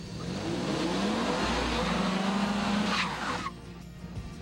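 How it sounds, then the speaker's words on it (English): A four-wheel drive Toyota Tacoma pickup truck driving hard, engine and tires roaring loudly with a squealing, skidding edge for about three seconds before cutting down to a quieter rumble. "And next, the four-wheel drive Toyota Tacoma."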